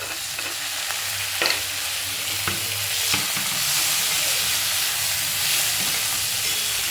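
Finely chopped tomato fries in a hot pan with a steady, loud sizzle, while occasional scraping clicks mark stirring, and no one speaks.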